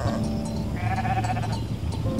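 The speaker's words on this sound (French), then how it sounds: "Un nouveau bêlement, puis un second, et ce fut tout un troupeau de moutons qui s'engagea sur le sentier" A flock of sheep bleats on a path, several overlapping wavering bleats over a steady rustling background, fairly close and continuous. No voices.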